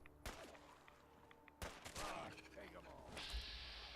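Faint gunfire in Fallout 4's Far Harbor, a few sharp shots spaced apart with a burst of rapid fire in the middle, heard quietly under game ambience and some talk.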